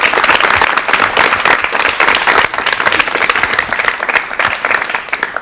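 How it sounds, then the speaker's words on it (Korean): A Korean television studio audience applauds to welcome a guest, a loud, dense, sustained roar of clapping from many people that holds steady throughout. "박수로 맞이해 주십시오."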